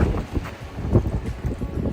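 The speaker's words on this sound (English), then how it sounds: "Just look how much the wind is whipping everything around." Gusty wind buffets the microphone on a mountain stretch of the Pacific Crest Trail, a steady broadband roar that rises and falls in uneven surges for the whole stretch, with no talking.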